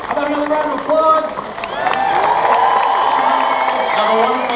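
Crowd noise at a Disney park evening event swells into sustained cheering and clapping with scattered whoops, steady and fairly loud, with voices chattering throughout.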